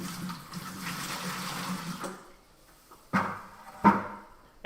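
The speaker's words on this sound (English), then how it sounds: "pour some of our sanitizer into the primary fermenter" Liquid sanitizer poured into a plastic primary fermenter bucket on a home-brewing day: a steady splashing pour of about two seconds, then quiet broken by two short sloshing knocks.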